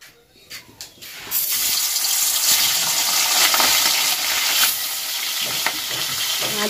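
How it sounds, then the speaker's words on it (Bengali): Potatoes frying with spices in a pan: after a few light clinks, a loud, steady sizzle starts abruptly and runs on close-up with occasional stirring scrapes. "মশলা দিয়ে আলুটাকে কষিয়ে নিচ্ছে।"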